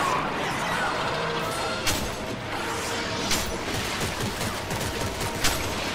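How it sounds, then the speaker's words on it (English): Gunfire in the survival horror game Dead Space 3 forms a dense, continuous loud clatter of shots and impacts, with a few sharper cracks standing out from the constant din. "Oh, that was a shot"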